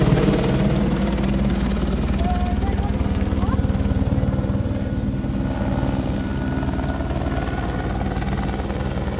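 A helicopter drones steadily and loudly over a mountain valley near the Mana helipad by Badrinath, its rotor thrum and engine whine continuous for the whole stretch, with talk faintly underneath.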